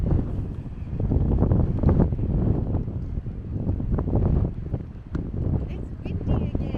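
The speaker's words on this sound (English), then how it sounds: "It's windy again." Strong coastal wind on Kangaroo Island roars and buffets the microphone in gusts, with rough seas in the background, loud and constant throughout.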